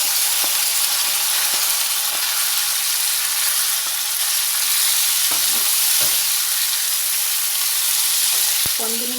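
Chopped ivy gourd (tondekai) sizzling and frying in hot oil with curry leaves for a wedding-style palya, a steady dense crackle throughout with occasional stirring clinks and a bump near the end, no talking.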